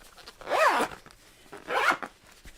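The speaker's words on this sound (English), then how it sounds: "To have this with me because it zips shut." A zipper is pulled shut on a planner book in two distinct, close strokes with a short pause between them.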